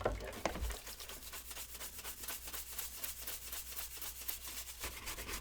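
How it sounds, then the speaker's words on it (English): A smoke- and soda-damaged Nintendo Wii plastic shell is scrubbed by hand in quick, even back-and-forth strokes, a rhythmic rasping that repeats steadily and close up. "I'm giving this stuff a good scrub here"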